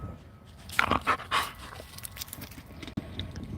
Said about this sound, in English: I've got a rescue dog waiting for his treat